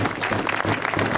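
Applause for the stage winner at a cycling race finish in Martinvast, Normandy, a dense, close burst of crowd clapping sustained throughout.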